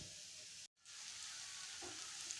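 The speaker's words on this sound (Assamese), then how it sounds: "এনেকৈ আমাৰ এইখিনি ভাজি ল'ম ধুনীয়াকৈ" Spice paste frying in a pan for a brain and drumstick dish, a steady close sizzle broken by a brief silent gap, then resuming with a small clatter near the end.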